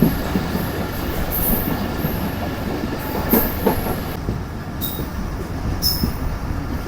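The Zikria Express rolls slowly through Bin Qasim station, heard from on board as a continuous rail rumble with clattering wheels and several sharp, high wheel squeals that break in briefly.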